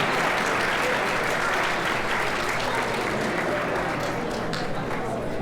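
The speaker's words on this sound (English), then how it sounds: "Let's give one more round of applause for these young people" Sustained applause from an audience at a white coat ceremony, steady dense clapping throughout, with some voices mixed in underneath.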